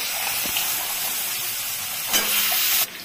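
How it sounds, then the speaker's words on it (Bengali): Potato, pointed gourd and drumstick pieces fry together in hot oil, giving a steady, loud, close sizzling hiss that runs without a break and swells slightly near the end. "এখন আলু, পটল, ডাটা একসাথে আমি ভেজে দিব।"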